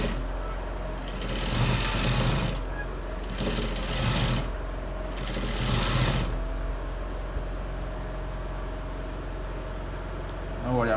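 A sewing machine top stitches around a trouser side pocket in three steady runs of fast mechanical whirring, each a second or two long and separated by short pauses, over a constant low hum.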